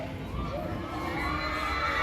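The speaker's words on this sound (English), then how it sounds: "Ah, the screams!" Riders scream on an amusement park ride at Disneyland Paris, a continuous wash of distant shrieks and crowd noise rising and falling over a steady background hum.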